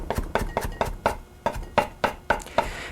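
A knife chops fresh parsley on a cutting board in a home kitchen, giving about ten sharp, evenly spaced knocks close to the mic with no talking.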